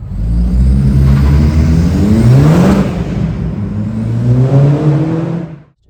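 A 300 bhp SEAT Leon Cupra Mk1 with about 109,000 miles revs loudly up close, its engine note rising and falling through two throttle blips before cutting off at the end.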